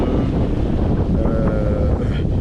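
Strong 30-knot wind buffets a sailboat at sea between Horta and Ponta Delgada in the Azores, a steady roaring rush across the microphone with low rumbling gusts throughout and no talk.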